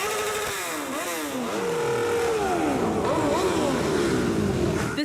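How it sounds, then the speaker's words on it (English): Motorcycles rev at a memorial ride in Desert Hot Springs, their engines rising and falling in overlapping sweeps as riders pass, loud and close, with a sharp burst at the end. "sounds of engines echoed through Desert Hot Springs"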